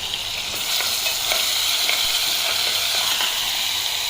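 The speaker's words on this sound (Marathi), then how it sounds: "मी थोडंसं अजून लसूण टाकलं आहे फोडणीवर" Crushed garlic and ginger-garlic paste sizzling in hot oil for a tempering, a loud, steady hissing fry heard up close, with light stirring scrapes and no talking.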